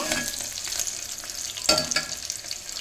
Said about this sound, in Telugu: కొంచెం అటు ఇటు తిప్పుకుంటూ అన్నీ కలపెట్టుకుంటూ ఇలా కొంచెం వేగిన తర్వాత